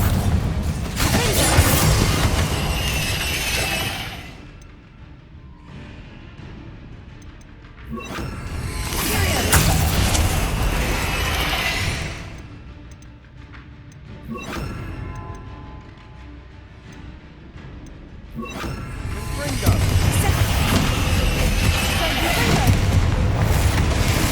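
Bombarda spell explosions in Hogwarts Legacy, loud booming blasts in four long surges with rumbling decay between them, under talk.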